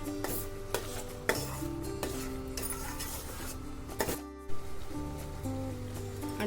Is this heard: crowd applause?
no